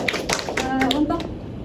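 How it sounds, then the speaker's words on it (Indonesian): A school class gives a round of hand claps during a language lesson, brief and fairly close, while a voice speaks over part of it. "Oke, tepuk tangan buat Mbak Sherly."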